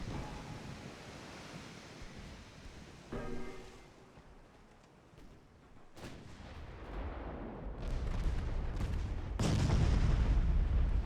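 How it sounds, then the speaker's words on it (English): Ten-inch naval guns firing and scoring hits in a World War I naval warfare game: several deep booming blasts with sharp onsets, then a swelling rumble of impacts and surging sea-like noise growing louder toward the end. "10-inch guns hit, score some flooding"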